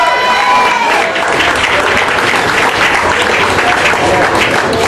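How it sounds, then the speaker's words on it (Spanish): An audience applauds prize winners at an event, dense, loud clapping that fills the whole stretch evenly, with a voice briefly heard at the start. "Un aplauso para todos ellos."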